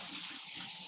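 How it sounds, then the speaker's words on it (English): Water runs from a tap as hands are rinsed under it, a steady close hiss and splash filling the whole short moment with no talking. "I'm just gonna give my hands a rinse."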